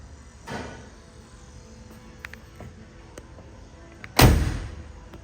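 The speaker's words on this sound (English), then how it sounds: "Doors close like brand new." A door on a 1970 Plymouth SuperBird, unrestored and original, shuts with one loud, solid thud near the end, after a fainter knock earlier and some quiet ticks in a still room.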